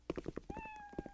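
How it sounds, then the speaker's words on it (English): A cat meowing in the Roblox horror game Midnight Sushi, one drawn-out tonal meow over a quick series of rhythmic tapping or footstep-like knocks, close and clear. "Kitty!"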